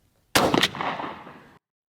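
A single loud blast from a Stevens 301 single-shot shotgun firing a 1 oz Viper TSS turkey load, with a sharp crack followed by a rumbling echo that fades over about a second.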